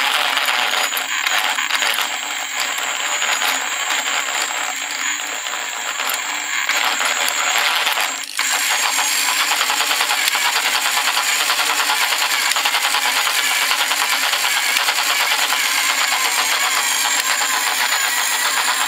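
A homemade toroidal coil winding machine runs with a steady mechanical whir, dips briefly about midway and then resumes at an even, close, constant level.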